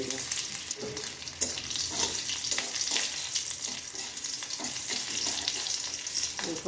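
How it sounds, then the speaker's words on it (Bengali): Bay leaf, broken dried red chillies, green chillies and a spoon of panch phoron frying in hot oil for a bottle gourd and prawn dish, a steady close sizzle with crackling pops and occasional stirring scrapes throughout. "ফোড়নটাকে ভালোভাবে একটু ভেজে নেব।"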